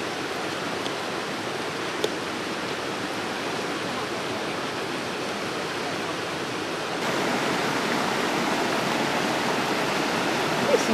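Steady broadband rush of flowing water at the edge of a lake, close and continuous, growing slightly louder partway through with no voices.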